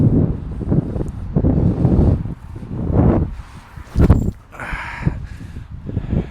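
Strong gusts of outdoor wind buffet the microphone in uneven surges, loud rumbling bursts separated by quieter lulls.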